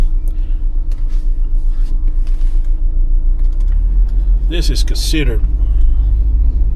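A car rolls down a rough forest road, its low rumble and body creaks running steadily throughout, with someone talking over it partway through.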